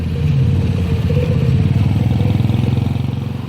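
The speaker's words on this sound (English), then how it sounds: "A trike is the way to go. A small motorcycle with a sidecar." A small motorcycle trike with a sidecar rides along a waterfront area in the Philippines, its engine chugging loudly and close with a steady pulsing putter and rattling clatter throughout.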